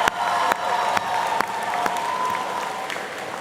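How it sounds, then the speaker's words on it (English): An audience at a commencement ceremony breaks into sustained applause, many hands clapping together in a large hall with a few sharper individual claps standing out over the steady wash. "let's give ourselves a round of applause."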